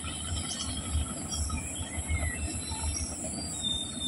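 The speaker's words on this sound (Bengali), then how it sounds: "অনেক লম্বা ট্রেন," A long train rolls past in a rural village setting, a steady low rumble of wheels with faint squealing and insects chirping in the background, no voices.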